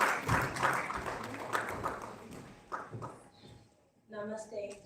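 Audience applause for a contestant at a national oratory contest: scattered, moderately loud clapping that fades after a few seconds, with a voice speaking near the end.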